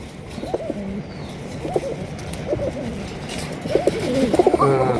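Pigeons of a popular Bangladeshi breed coo repeatedly in a pen, a steady series of low rolling coos from several birds, fairly close and growing louder toward the end, with no talking.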